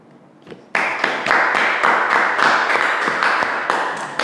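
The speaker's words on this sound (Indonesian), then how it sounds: "Kenapa saya tepuk tangan terus?" Hands clapping steadily and fairly loud, about a dozen sharp claps in an even rhythm after a quiet start, in an indoor talk-show setting with no talk over them.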